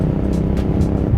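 A car accelerates hard on a test drive, its engine a loud steady roar with a few whooshing surges of road and wind noise, close and continuous with no one talking.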